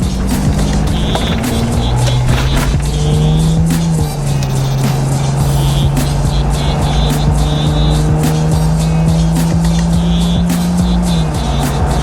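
A Jeep on stock gearing with bigger tires accelerates hard from inside the cab, a loud, continuous engine drone with a steady pitch climb through gears and a shift around the middle, with constant road and wind noise and no speech.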